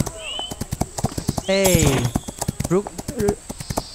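Rhythmic hoofbeats of a galloping horse in the Rival Stars Horse Racing game, quick evenly spaced thuds running throughout, with short bursts of talk over them.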